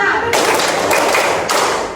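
Hand clapping from a classroom of children playing a counting clap game, two dense bursts of many hands striking together, loud and close, with a short pause between.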